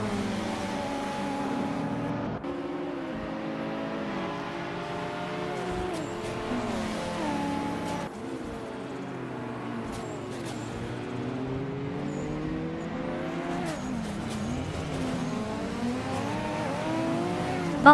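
Race cars roaring around a track in a racing video game, continuous engine drone with rising and falling pitch as cars rev, shift and pass, steady and loud throughout with no talk.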